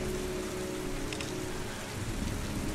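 Steady heavy rainfall from the Heavy Rain playable demo, a dense continuous wash of rain on surfaces with a faint low rumble underneath, constant throughout with no voices.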